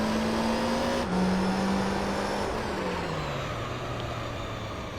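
Race cars, including a Toyota Supra and a Nissan GTR, in a Professional All Japan GT race in Gran Turismo 3: A-Spec, give a steady, loud engine drone whose pitch rises and falls through the whole stretch, with no talking.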